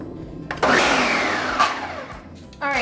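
A kitchen blender crushing strawberries with vanilla and simple syrup starts up loudly and whirs steadily, its pitch drifting as the fruit breaks down, then briefly changes tone near the end.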